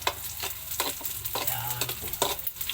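Garlic and onion sauté in a pan for a mung bean dish, with a steady close sizzle broken by repeated scrapes and stirs of a utensil against the pan.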